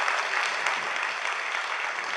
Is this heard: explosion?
no